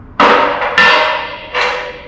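A big heavy hammer knocks old tube stubs out of a boiler tube sheet: three loud ringing metal strikes, each followed by a long clanging decay.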